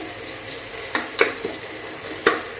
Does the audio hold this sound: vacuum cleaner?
no